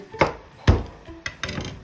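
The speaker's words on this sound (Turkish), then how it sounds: "sebzelerimizi doğramaya devam ediyoruz" A knife chops vegetables on a cutting board, four or five sharp knocks at an uneven pace, close and fairly clear, no talking.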